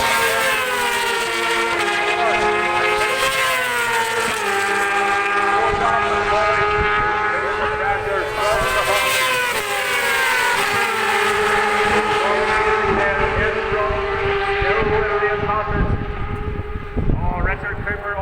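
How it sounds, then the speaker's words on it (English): Yamaha R6 racing motorcycles scream past on the Bishopscourt circuit in County Down, engines wailing and shifting pitch as they brake and accelerate, loud and continuous throughout, with a commentator's voice over the top. "Richard Cooper on the brakes again, pumping the flames out that R6 Yamaha"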